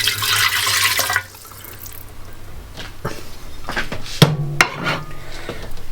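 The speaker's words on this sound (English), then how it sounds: "Then 170 mils of water." Water poured into a bowl for pizza dough, a brief hissing rush of liquid up front that stops, then quiet kitchen clinks and taps of a bowl and utensils, close with no talking.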